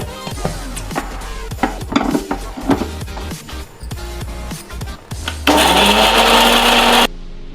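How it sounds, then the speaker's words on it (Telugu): A kitchen mixie grinder grinds fried ingredients for bitter gourd curry. It starts with stuttering bursts and knocks, then settles into a loud, steady, high whine for about two seconds before it cuts off abruptly. No one speaks. "ఇప్పుడు మిక్సీ వేస్తున్నాం."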